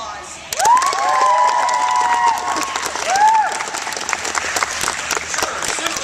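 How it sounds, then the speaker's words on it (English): An anime convention audience bursts into loud applause with shrill cheers and whoops rising over dense clapping, which continues steadily to the end. "I think he needs his own round of applause."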